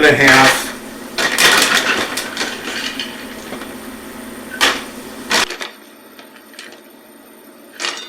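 Almonds are scooped with a measuring cup and poured into a bowl for cinnamon roasted almonds, giving clattering, rattling bursts of nuts against the cup and bowl, then a few lighter taps before it goes quiet.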